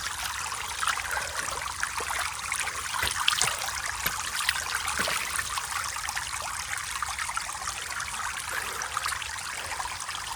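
Fresh stream water trickles and splashes over rocks on the Kalavantin Durg trek, a close, busy babble that stays steady throughout with no speech.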